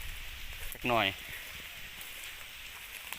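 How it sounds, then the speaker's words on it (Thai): Light rain falling in cold weather in woodland where snares and traps are being checked, a soft, even hiss that runs throughout, with one brief spoken word near the start. "ฝนก็ตกตกแน่"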